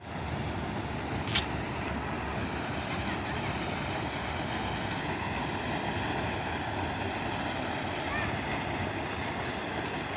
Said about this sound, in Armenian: Այստեղ այդ ջրի ձայնը շատ հաճելի է